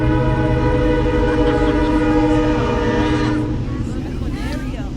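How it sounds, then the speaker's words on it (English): Train passing in The Sims, with a loud sustained horn chord over rumbling, rattling wagons close by, the horn thinning toward the end as squealing wheels rise. "Oh, good, there's a train."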